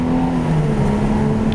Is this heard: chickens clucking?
no